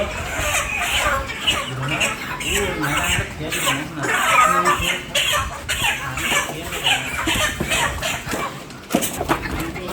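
Chickens clucking and squawking at a live poultry market, a busy, continuous jumble of bird calls mixed with people talking nearby.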